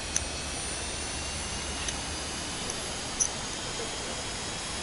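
German fighter jet at the Duluth air show, a steady broadband engine roar filling the whole clip at moderate distance, with a few faint clicks on top.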